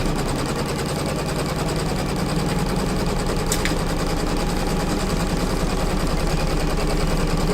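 A sewing machine runs steadily and loudly in open zigzag stitching over rope, building the coils of an embroidered rope bowl, its fast mechanical needle rhythm continuous with no talk.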